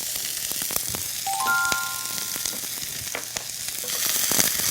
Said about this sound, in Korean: 지금 이렇게 한번 볶게 됨으로써 양파가 가지고 있는 수분을 상당량 없애거든요.